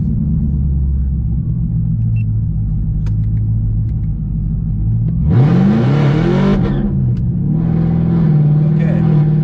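A modded Chevrolet Camaro ZL1 engine rumbles at a steady idle, then roars hard in a loud, rising acceleration run, eases off and pulls again, with brief talk over the idle.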